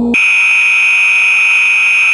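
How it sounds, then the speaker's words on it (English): A vibration analysis simulator plays a machine vibration signal as a loud, steady, high-pitched continuous tone, alarm-like, after a brief lower hum at the very start. "That last part of vibration you heard is the vibration that is being rejected by an overall level meter"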